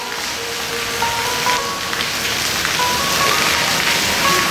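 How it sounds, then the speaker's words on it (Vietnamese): Steady rain falls across a Hung Yen town just after Typhoon Yagi, a continuous broadband hiss of drops on surfaces with faint tonal hums in the background, no speech. "Trời thì vẫn mưa, nước đang nhiều."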